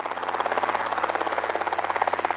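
Helicopter flying over a storm-damaged area after an evacuation, its rotor chopping in a steady rapid pulse throughout, fairly loud and continuous with no talking.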